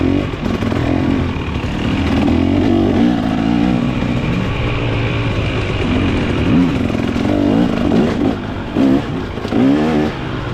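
A dirt motorcycle is ridden off-road, its engine droning steadily close by with rising and falling revs and some clatter, loud and continuous throughout with no talking.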